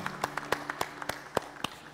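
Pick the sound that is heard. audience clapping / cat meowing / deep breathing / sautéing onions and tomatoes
audience clapping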